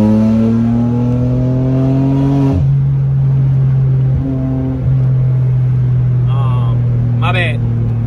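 A used BMW M3 with an aftermarket exhaust accelerates onto a highway, its engine loud and close as it drones and climbs through the gears, with brief shifts and a voice speaking over it near the end.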